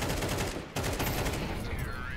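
Dense gunfire from the Counter-Strike 2 video game on the De_Dust 2 map fills the moment as a steady, loud barrage of rapid shots with no pause.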